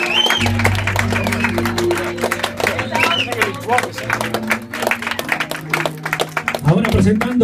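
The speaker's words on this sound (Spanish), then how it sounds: "Fuerte los aplausos para ellos." Wedding guests clap steadily for the witnesses, dense applause from a crowd running the whole time beneath an announcer's voice and a low hum.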